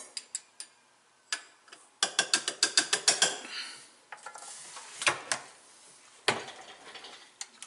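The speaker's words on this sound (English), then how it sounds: "I know you can't see the trickler, but it just drops 1 or 2 flakes at a time" A powder trickler used while reloading .45 Colt drops one or two powder flakes at a time, giving a series of sharp, close ticking clicks in irregular bursts with short pauses between them.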